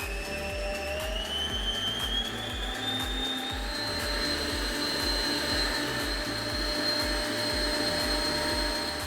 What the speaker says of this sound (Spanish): En nuestra batidora vamos a agregar los 4 huevos enteros